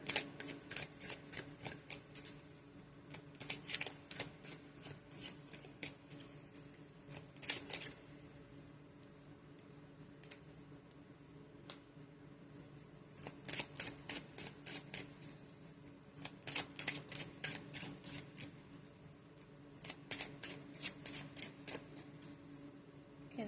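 A Romance Angels oracle card deck being shuffled, crisp riffling bursts repeating in clusters with brief pauses between, close and clear in a quiet room.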